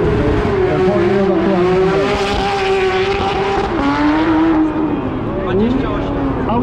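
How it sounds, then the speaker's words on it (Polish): A Porsche rally car drives the Karowa stage at the Barbórka Warszawska rally, its engine loud and close with rising and falling revs through gear changes and tyre squeal, a voice talking over it. "Zobaczmy, jak poradzi sobie tutaj to Porsche."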